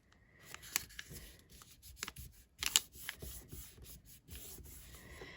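Sheet of paper folded in half, a quiet close rustle and crinkle with a couple of sharper creasing swipes among softer rubbing sounds.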